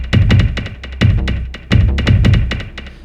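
Bass synth and kick drum run through a Virus synthesizer, pulsing in a steady repeating pattern with deep low thumps and buzzy tones, loud and close with no voices.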